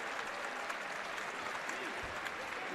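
A basketball crowd at the Mullins Center applauds on senior day, a dense, steady wash of clapping that stays even throughout, faint and distant, with no voices standing out.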